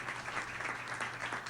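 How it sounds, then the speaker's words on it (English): Hands clap in a rapid, continuous run of claps that sounds like applause, steady throughout and fairly soft, with no clear speech over it. "Just me in there clapping it all up, boy."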